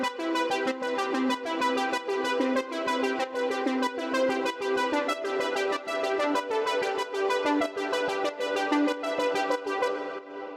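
Retro 80s synthwave arpeggio from a synth patch with all effects engaged, a fast steady stream of bright repeating notes that pulse evenly and loudly for the whole stretch, with no voices.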